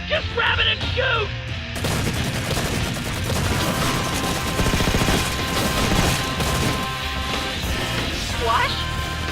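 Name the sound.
gunfire in Red vs Blue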